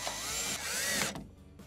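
A power drill drives two 5/16 screws that mount an ice maker cabinet to its base, whining steadily and loudly for about a second before cutting off into quiet, with no voices.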